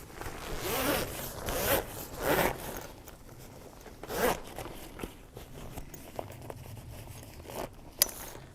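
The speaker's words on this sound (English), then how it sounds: "So once you get your zipper going, you just run it across." Zipper on an ARB Annex room drawn along in several long, rasping pulls with pauses between, close and moderately loud, followed by softer fabric rustles and small clicks.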